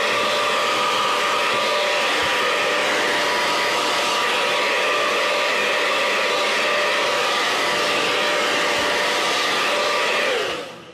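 A hair dryer blows steadily and loudly at close range, drying paint on a handmade DIY wooden sign for a coffee corner, a constant whirring hum that winds down at the very end.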